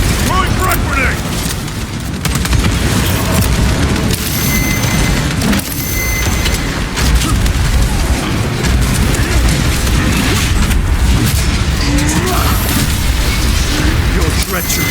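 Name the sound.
frag grenade explosion in Space Marine 2 video game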